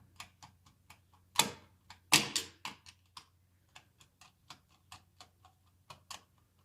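A screwdriver tightening the screws of a grounded electrical outlet: a close, quiet series of small regular ticks and clicks, with a couple of brief louder scraping bursts partway through.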